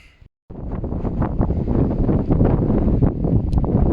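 Wind buffets the microphone in a steady, loud roar during an outdoor running session in Ulaanbaatar, Mongolia, starting after a brief quiet moment and continuing unbroken with gusty swells.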